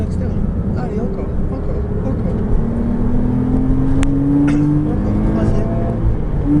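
A Porsche Cayman S engine climbs in pitch as it accelerates harder out of a corner on the Chenevières race circuit, a loud, close drone with a rising whine, while an instructor talks over it.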